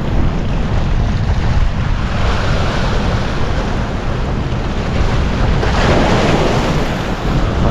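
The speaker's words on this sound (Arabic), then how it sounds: "الموج" Ocean waves break and wash onto the shore in a steady, loud roar, with gusty wind buffeting the microphone throughout and no voices.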